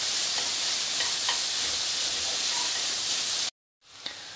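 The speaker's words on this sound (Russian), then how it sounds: "сейчас я отправляю пожарить саму колбаску" Sausage frying in a pan gives a loud, steady hiss and crackle, with small pops throughout. It cuts off abruptly, then returns more faintly.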